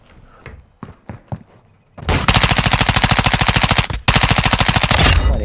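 Rapid automatic gunfire from a video game, with incendiary rounds, rattles loud and close in a long sustained burst that briefly breaks and resumes, preceded by a few separate single shots.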